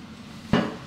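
A single sharp clink of dishes being washed, one short, close clatter of crockery in an otherwise quiet moment.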